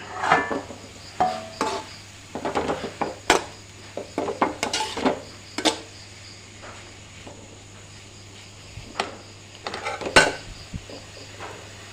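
Cabbage thoran in a pot, with a lid opened and a spoon stirring, giving scattered clinks and scrapes of metal on metal against a quiet background with a faint steady hum.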